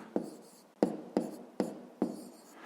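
A pen or pencil writes numbers by hand on paper in a quiet room, five sharp strokes landing in an uneven rhythm, each a close, crisp scratch that trails off quickly.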